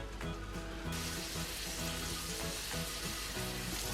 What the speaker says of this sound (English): now we're gonna add the steaks into the butter